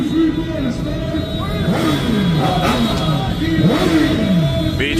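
Motorcycles revving and accelerating in a street protest, with engine whines rising and falling amid crowd chanting and babble.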